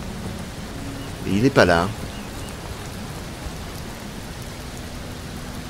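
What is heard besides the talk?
rain in the desert in the video game Mr. Prepper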